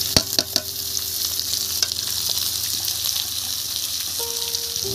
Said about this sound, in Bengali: এবার এর মধ্যে দেখুন কুচি কুচি করে যে পেঁয়াজ কেটে রেখেছিলাম এটা দিয়ে দিচ্ছি।